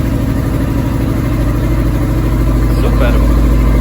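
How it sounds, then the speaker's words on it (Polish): Honda Transalp 650 motorcycle started cold with the choke on, its engine settling into a steady, loud, close idle with a regular low throb throughout. "spróbujmy, zobaczmy czy w ogóle może trochę nawet ssania, czy motocykl będzie chciał zapalić"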